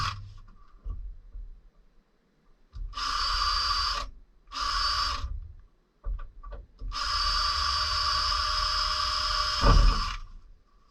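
A power drill bores a pilot hole for a hole saw while fitting a VW sliding-door window, in short whirring bursts separated by pauses, then a longer steady run, up close.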